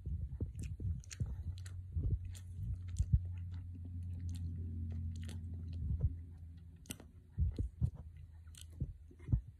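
Close, quiet chewing of a bite of an Arby's wagyu burger, with soft wet mastication and occasional crunchy bites in an irregular rhythm.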